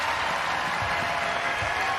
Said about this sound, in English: And the crowd rises.